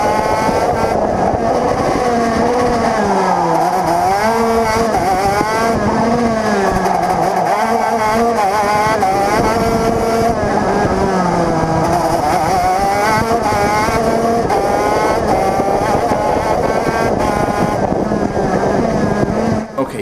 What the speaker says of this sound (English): After the change in carburation, my engine is pushing a lot more